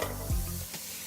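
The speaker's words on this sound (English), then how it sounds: "Listen to the sizzle." Lean ground beef sizzles loudly in a hot pan with a steady close crackle and a brief stirring scrape, and no voices over it.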